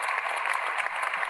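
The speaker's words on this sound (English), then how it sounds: "It is a great pleasure to hear lots of applauding." Sustained applause from a seminar audience thanking a physics lecturer after a talk, a dense, even wash of many hands clapping close by with no pauses.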